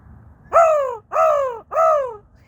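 Three loud, drawn-out crow caws sound close by in even succession, each harsh call separated by a short gap, with no talking.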